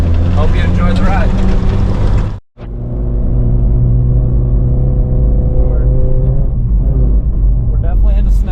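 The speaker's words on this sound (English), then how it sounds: "we're in a Suzuki Samurai, a 94 Suzuki Samurai" A 1994 Suzuki Samurai drives through snow, its engine a loud, steady low drone with harmonic hum, briefly cutting out near the middle before resuming.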